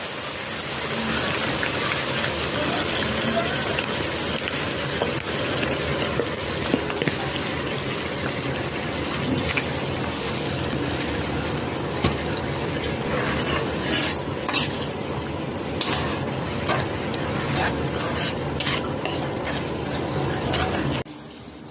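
Coconut milk bubbling in a pan for bangus bicol express with ginger, steady simmering sizzle and scraping stir strokes, close and continuous throughout with no talking.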